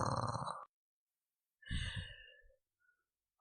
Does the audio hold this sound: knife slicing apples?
no